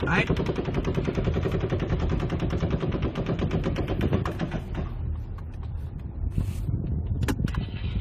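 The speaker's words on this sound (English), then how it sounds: "shots are coming from gate 7" Recorded real-world gunfire: a long, loud, rapid string of shots fired in quick succession from multiple weapons, sustained for several seconds before easing into scattered further bursts, with wind noise on the microphone.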